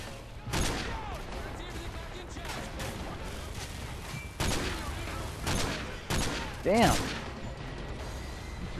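Gunfire from the video game Call of Duty: Modern Warfare 3 rings out in several sharp, loud bursts, a few single shots and short volleys spaced across the stretch, over a low rumbling game backdrop.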